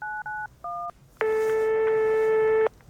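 Telephone being dialed: three short touch-tone beeps in quick succession, followed by a longer steady tone, loud and clear with no talking.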